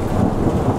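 Deep thunder from a storm rumbles steadily and fairly close, with rain falling throughout and no voices.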